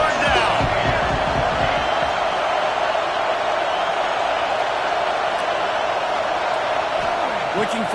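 Auburn's football stadium crowd roaring on third down, a dense, sustained wash of cheering and noise from a large crowd, with a commentator's voice over it.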